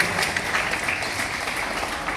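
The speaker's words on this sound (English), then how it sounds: "Come on, give him a huge round of applause." A university audience at a sculpture exhibition applauds sand sculptor Tutu Patnaik, a continuous, fairly loud wash of clapping with no pauses.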